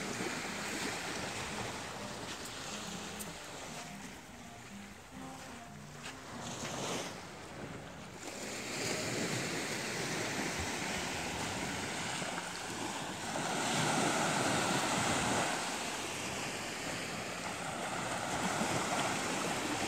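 Surf washing onto a private beach at Hua Hin, Thailand, a steady wash of waves with swelling surges and wind buffeting the microphone, no talk.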